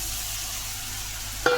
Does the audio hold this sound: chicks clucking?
no